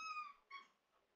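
Cat shut behind a closed door and wanting out, giving two close, faint, plaintive meows, the second shorter than the first, in a quiet room.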